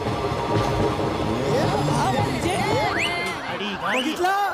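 A train rumbles along the tracks with steady rattling, squealing wheels and metallic screeches, while people talk over the noise.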